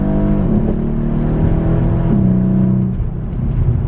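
A 2015 Mercedes E63S AMG with its 600 hp twin-turbo V8 pulls hard at full throttle from inside the cabin, a loud deep engine note climbing in pitch, with gear shifts breaking the rise twice.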